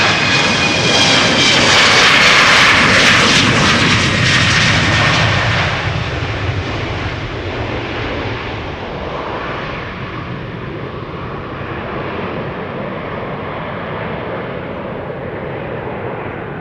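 Air Serbia jet airliner from Belgrade departing Amsterdam Schiphol Airport: a loud, broad engine roar heard up close, peaking early and then slowly fading to a steady distant rumble as the plane climbs away.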